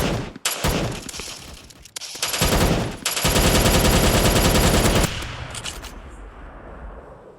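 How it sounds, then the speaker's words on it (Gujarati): Rapid bursts of automatic gunfire in the Free Fire video game, loud and dense, with a sustained rattling volley through the middle and quieter trailing shots at the end. "એસવીડી ગન લઈને આપણને એક જણા મારી ગયો છે"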